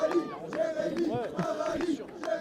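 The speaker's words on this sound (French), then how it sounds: "la foule qui crie Jérémy un rallye" Spectators shouting and cheering at a volleyball match in Montpellier, several voices rising and calling together at moderate distance in a lively, echoing hall.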